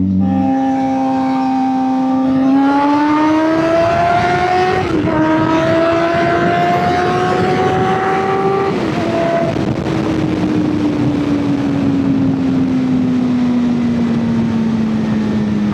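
A Suzuki GSX-R 750 sport motorcycle's engine revs in loud, steady tones, rising in pitch over the first few seconds, holding high, then easing down in a long smooth fall, with wind rush throughout and no talk.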